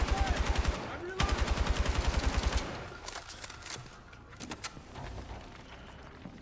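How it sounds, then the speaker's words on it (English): Automatic gunfire in a video game, two rapid bursts of rhythmic shots close and loud in the first seconds, followed by scattered single clicks and softer impacts. "I'm just gonna shoot in a general area"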